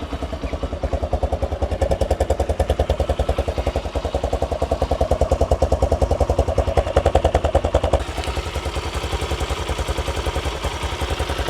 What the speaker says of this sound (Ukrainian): Двигун працює просто ідеально.